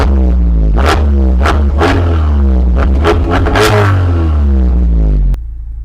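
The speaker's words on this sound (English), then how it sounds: "Let's give it a little rev," A Mazda CX-3 GT engine is revved several times in quick succession, loud rising and falling roars close by that settle back to a low idle at the end.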